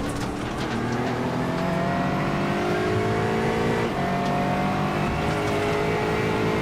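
Race cars in the iRacing sim at Sebring at night, engines droning loud and steady with rising and falling revs as they brake and accelerate, overlapping engine tones throughout.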